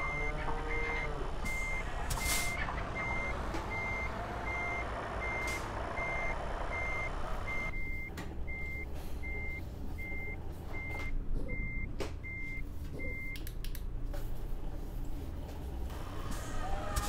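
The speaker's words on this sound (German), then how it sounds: "Ja, du musst schon rückwärts fahren." Reversing beeps from a truck in the Euro Truck Simulator video game, a steady evenly spaced series of tones over low engine rumble, with some background noise and brief sharp sounds.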